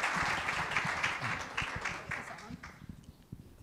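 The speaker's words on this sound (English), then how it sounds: "So please give the teens a round of applause." Steady applause from a crowd at a research presentation, a dense wash of clapping that gradually thins and fades toward the end, with a voice faintly underneath.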